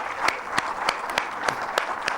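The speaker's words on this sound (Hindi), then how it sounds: "उनके लिए आप भरपूर तालियां बजाएं" Audience applause at a ceremony, brisk clapping from a crowd with sharp, regularly spaced loud claps punctuating the wash, close and moderately loud.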